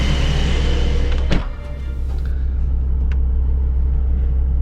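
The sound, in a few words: Porsche 911 Targa 4 GTS engine running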